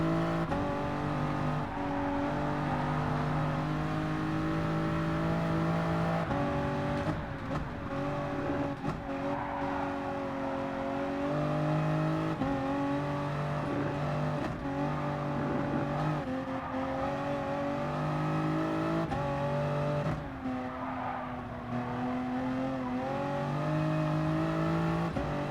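Race car engine in Gran Turismo Sport drones and revs continuously and loudly for the whole stretch, with steady harmonic engine tones shifting pitch through gear changes and brief dips where the throttle lifts.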